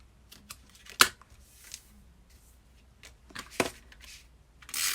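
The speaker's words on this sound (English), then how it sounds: "Now that it's down there, I'm going to trim off the edges." Scissors trim the paper edges of a stamped card, a few short crisp snips and rustles with quiet gaps between, close and clear, ending in a brief louder burst of paper handling.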